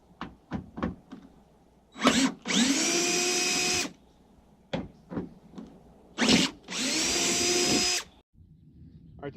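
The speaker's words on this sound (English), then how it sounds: "Pulling these 3 screws out." A power drill fitted with a T27 bit backs three screws out of a Ford 7.3 Powerstroke truck door, sounding as two sustained whining runs of about a second and a half each, separated by short clicks and taps, close and fairly loud.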